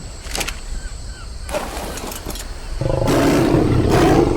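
Bengal tiger roars from the Ark Rainbow Zoo mod in a video game, several loud growling bursts that swell into a sustained, rumbling roar near the end, with no talk.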